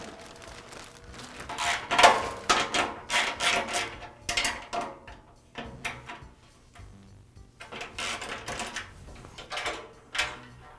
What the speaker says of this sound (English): Now I'll remove the bag hanger and its mounting bracket from the dust collector.